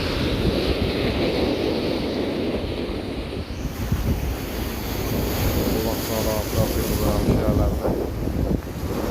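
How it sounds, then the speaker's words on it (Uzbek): Sea waves roll and wash continuously at the shore under strong, gusty wind buffeting the microphone, a steady loud roar throughout. "Rosa to'lqinlanayotgan joyda turibmiz. Rosa shamol bo'lyapti"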